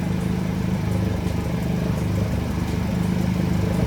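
A Mazda RX-7 GSL-SE with a rotary engine idles on its own at its first start in sixteen years, a steady, loud, close engine drone with no talk.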